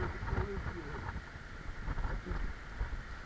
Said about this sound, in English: y'all can hear the breeze, I know. You can even hear our voice over this breeze.